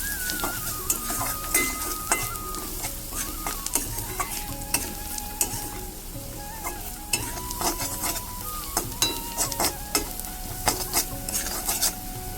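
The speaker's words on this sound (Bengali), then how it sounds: "এবার আমি হালকা যে আমি নাড়িয়ে নেবো ভালো করে মশলাটা কষিয়ে নেবো" Spice masala with chili powder, turmeric and salt sautéing in a pan for a tangra fish and potato curry, a steady sizzle broken by repeated scraping and clinking strokes of a spoon against the metal pan, close and continuous.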